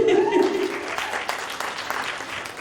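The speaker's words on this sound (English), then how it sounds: "please give a round of applause for the woman behind you" An audience at a talk on building winning teams breaks into dense, steady applause that fills the whole stretch, with a voice speaking over it near the start.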